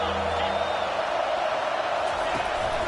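A football stadium crowd roars steadily at a Georgia game, a dense continuous wash of noise from start to finish with a commentator's voice talking over it.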